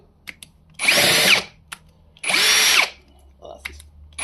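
An electric drill with a worn-out chuck gives two loud, separate whirring bursts of about half a second each, with light clicks and handling noise between them, during an engine bay cleanup on a 4JJ1-swapped Nissan Patrol.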